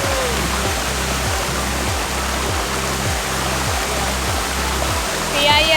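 Miyaya Falls in Maragusan, Philippines, rushes as a loud, steady roar of falling water that fills the scene.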